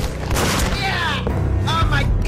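Gunfire in the Max Payne video game, loud booming shots mixed with screaming and shouting voices and a dense action soundtrack throughout.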